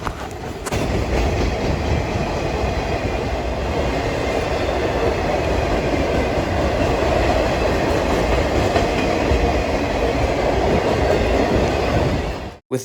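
A CN freight train rolls past on the Mesabi line on Minnesota's Iron Range, a loud, continuous close rumble with rhythmic wheel clatter that holds steady before cutting off abruptly.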